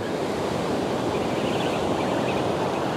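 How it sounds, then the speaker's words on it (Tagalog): Ocean waves breaking steadily on a beach where someone is fishing, a constant loud wash of surf and spray with no pause, heard alone. "Yan natin yung alon."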